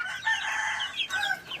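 A hen clucking in a backyard nest, two short drawn-out calls close by with a brief gap between them, no talk over it.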